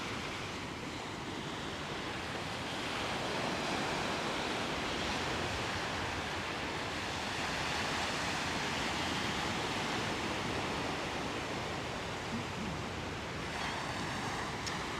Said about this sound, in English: Beautiful sounds of the ocean brought to us by nature.